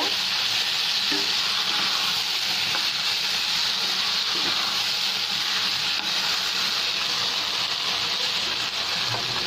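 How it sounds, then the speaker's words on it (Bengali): Boiled potatoes stirred into spices frying in a pan for a bean and potato vegetable dish, a loud, constant hiss of frying oil with faint scrapes of stirring throughout. "সিদ্ধ করে রাখা তিনটার আলুটা আমি দিয়ে দেব দিয়ে বন্ধুরা ভালো করে মিশিয়ে নেব"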